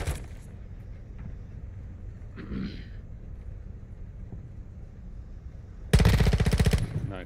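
Gunfire in MW2 DMZ: a near burst of rapid automatic shots breaks out near the end over a low rumbling game backdrop, with a faint shot or two earlier.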